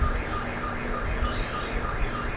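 A car alarm wails in a steady repeating warble a short distance away, set off by a loud passing truck, against constant street noise.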